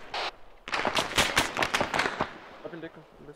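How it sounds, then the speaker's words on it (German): A rapid burst of sharp gunshots cracks out in ArmA 3, several close together in a multi-storey building, followed by quieter clatter and a faint voice. "Schüsse auf uns!"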